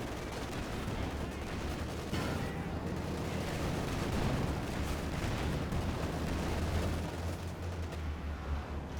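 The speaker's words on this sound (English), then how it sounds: "MG opening up for some reason, even though there's no infantry whatsoever" Machine gun fire amid a Company of Heroes 2 battle, a continuous rumble of bursts and heavy booms layered thickly together, loud and sustained throughout.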